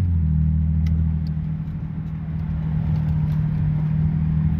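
A 2010–2015 Toyota Prius hybrid cruises on a highway, heard from inside as a steady, close low rumble of road and drivetrain noise that stays even throughout, with no talking.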